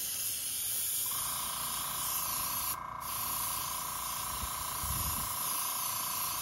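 Airbrush from a budget starter kit spraying a heavy wet coat of paint, a steady close hiss over a constant tone, unbroken apart from a brief dip partway through.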